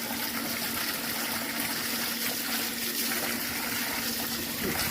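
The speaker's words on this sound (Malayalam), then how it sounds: "വെള്ളം വരുന്നത് നോക്ക്" Water runs steadily from a tap fed by an electric motor pump, a constant rushing flow with a low pump hum beneath it, close and unbroken throughout.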